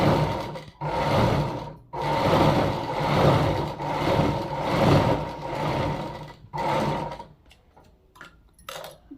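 A sewing machine runs in steady loud bursts as it stitches soft cloth for an umbrella, pausing briefly between runs and then stopping, with lighter mechanical ticks near the end.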